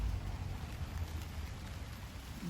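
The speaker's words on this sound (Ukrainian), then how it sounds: "Знову дощик починається." Rain starts falling again over a flower garden, a soft, steady patter that stays faint and even throughout with no other sounds.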